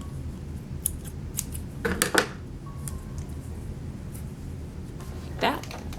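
Scissors snip through yarn at the end of a woven craft piece, giving a few quick, crisp cuts around the middle and another near the end, close and clear against a quiet room with faint background noise.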